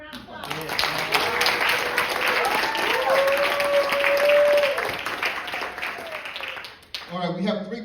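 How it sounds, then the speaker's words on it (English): Sustained audience applause fills a room at a Middle Georgia youth bike awards night, a dense steady wash of clapping that holds for several seconds, fades briefly, then picks up again. "Can we give them a round of applause?"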